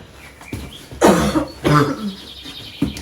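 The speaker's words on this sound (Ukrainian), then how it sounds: "ось хто курить, той кашляє" Two or three harsh, loud coughs in quick succession, close by, with a softer cough trailing at the end.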